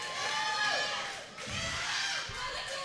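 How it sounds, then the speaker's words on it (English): Crowd at an independent pro wrestling show cheering and shouting in a sustained roar, with a commentator's voice running over it. "listen to this crowd"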